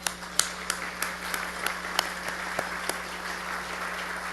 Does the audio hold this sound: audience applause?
yes